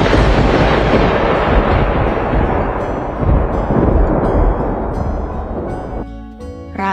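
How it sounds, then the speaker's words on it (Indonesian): Thunder and a lightning strike in a dramatic storm scene: a loud, sustained rumbling roar fills the whole clip, swelling and rolling without a break and easing slightly near the end. "tiba-tiba langit menjadi gelap dan petir menyambar."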